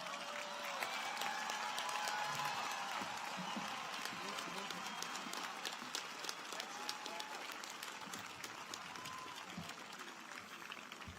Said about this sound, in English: let's give Trustee Higginbotham another warm applause